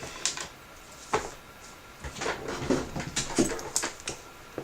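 A young puppy whimpers and whines in short, high-pitched bursts, with soft panting between them, close by and fairly quiet, with no talking.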